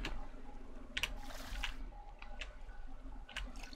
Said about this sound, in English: get a drink of water.